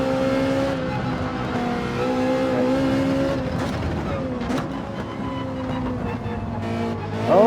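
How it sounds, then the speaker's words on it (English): A Ferrari race car in Gran Turismo 7 drones at steady engine pitch, then the tone drops as it brakes hard into a corner, with other cars close by and a sharp rising note at the end. "Try to outbrake them with the fantastic brakes on the Ferrari."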